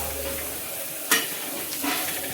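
Dried fish frying and being stirred in a pan, a steady close sizzle with a sharp scrape of the spatula around the middle and another stir near the end, no voices.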